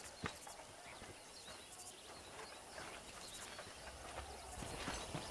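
Faint hooves clip-clop steadily over a soft outdoor ambience with insects in the video game Red Dead Redemption, the trotting continuing throughout at a moderate distance.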